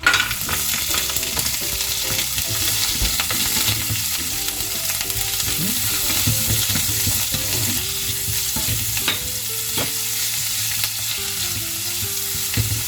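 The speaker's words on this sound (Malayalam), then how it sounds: "എണ്ണ ചൂടായിട്ടുണ്ട്. നമുക്ക് അതിലേക്ക് പനീർ ഇടാം." Paneer frying in hot oil in a home kitchen pan, a steady dense sizzle running the whole time with occasional scrapes and clinks of stirring, close and alone with no talk.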